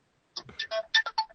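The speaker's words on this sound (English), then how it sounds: "Excuse my phone there." A mobile phone rings during a conversation, giving a short, fairly faint melodic ringtone of several quick notes after a moment of silence.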